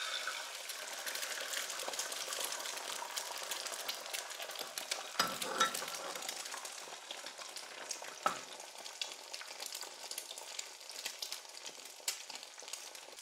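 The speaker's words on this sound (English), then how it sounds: "my egg into the oil" An egg fries in hot oil in a pan with a steady, close crackling sizzle that continues throughout, broken by a few brief louder pops and scrapes.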